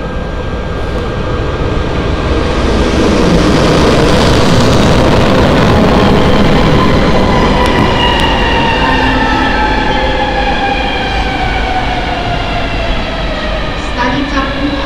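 Express train 606 from the Košice direction pulling through Púchov railway station, a loud sustained rumble and screech of rail wagons rolling past close by, with squealing tones and a station announcement voice faintly underneath.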